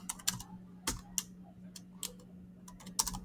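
Keys clack on a computer keyboard in short irregular bursts, close and fairly quiet, with a faint steady hum running beneath the taps.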